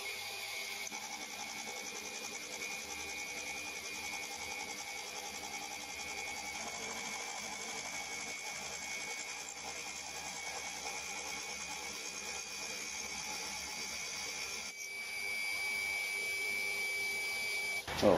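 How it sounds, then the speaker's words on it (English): A milling machine fly-cutting metal stock for homemade stepped milling clamps runs with a steady, even mechanical whir and a high tonal whine throughout, with a slight shift and rise in level near the end. "I'll get on with fly cutting this"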